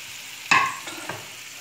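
Tofu sausages drop into a hot pan with a sudden sharp sizzle that quickly fades, followed by a couple of smaller crackling hits, close and alone.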